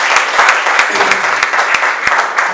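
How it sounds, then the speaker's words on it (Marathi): A church congregation claps loudly and steadily after a sermon, dense sustained applause with sharp individual claps standing out throughout. "या आपण एकदा जोरदार टाळ्या वाजवू"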